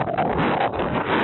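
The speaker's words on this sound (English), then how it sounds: "it is windy" Strong storm wind buffeting a microphone outdoors, a steady broadband roar with gusty swells running through the whole short stretch, loud and close with no voices.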